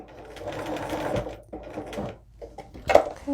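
A sewing machine stitches through a fabric bag in short bursts, running, pausing and starting again, close and fairly loud, with a brief clatter near the end.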